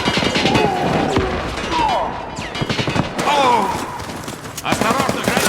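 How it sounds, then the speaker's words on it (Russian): In the online shooter Warface, a grenade blast and bursts of rapid gunfire crash through a match, loud and close, with several sharp impacts and shouting voices in between. "Граната пошла!"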